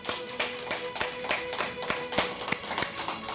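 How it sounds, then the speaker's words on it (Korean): A church congregation claps in thanks during a Sunday service, with sharp, rhythmic, fairly loud hand claps in a steady beat from start to finish. "감사의 박수 올려드립니다."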